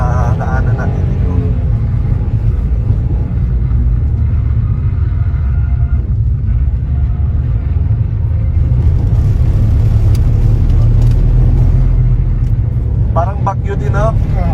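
A big truck approaches on a zigzag mountain road near Don Salvador Benedicto, heard as a steady loud low rumble of engine and road noise from inside a moving vehicle, with people talking over it.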